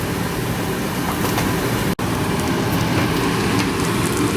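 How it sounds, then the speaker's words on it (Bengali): Minced meat fries with onion, ginger, garlic and carrot for lasagne, a dense close sizzle that crackles steadily and evenly throughout, with one brief break. "পেঁয়াজ, আদা, রসুন, গাজর ভেজে তারপরে মাংসের কিমাগুলো দিয়ে"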